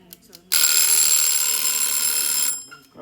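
A kitchen timer for a butter chicken bake goes off, a loud, piercing electronic ring that starts abruptly and holds steady for about two seconds before cutting off, with brief talk before and after.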